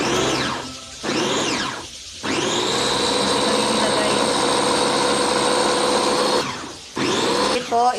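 A food processor's blender motor runs loud and close, spinning up in short bursts and then holding a steady high whine, with a voice audible at times.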